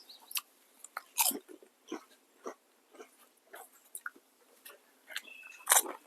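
Crunchy Lay's Sweet and Spicy Honey potato chips are bitten and chewed up close: a series of sharp, crisp crunches at irregular intervals over quiet, with no talk.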